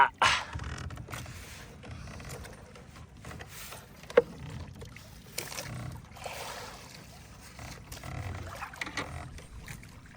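A small wooden outrigger bangka rocks on choppy sea waves, with soft creaks, knocks and water sloshing against the hull, a faint steady wash under occasional sharper bumps and a little background voice.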